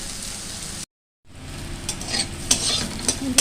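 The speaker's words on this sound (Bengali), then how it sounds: "চলো উচ্ছেটা ভেজে নিই" Sliced bitter gourd with onion sizzles in a frying pan, a close, steady crackle broken by a short silent gap, then stirred with clinks of a utensil.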